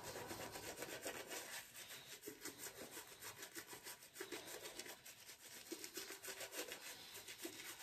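Shaving butter is spread over the face with a brush during a wet shave, making a steady, rhythmic scrubbing and rubbing, close and faint, with no talking.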